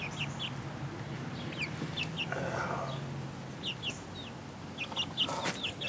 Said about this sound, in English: There's a chicken behind you.